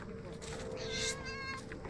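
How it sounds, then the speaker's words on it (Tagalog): A blind cat meows near people on a mountain trail during a trail-running recon, giving a clear, close, drawn-out mew over steady background noise, with voices faintly present. "Ay, may pusa. May kasamang pusa."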